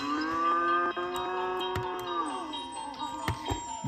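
A cartoon cow gives one long, loud moo with a falling pitch, heard alone and close up in an animated children's show.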